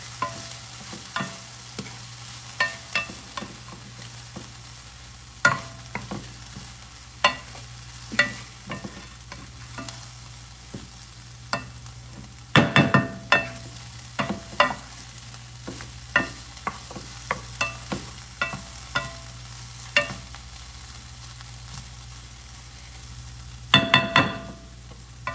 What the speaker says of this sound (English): I want everything to just sizzle nicely.